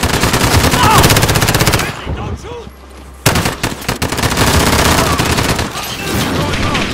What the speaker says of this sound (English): Start fucking shooting them out the sky, Corey.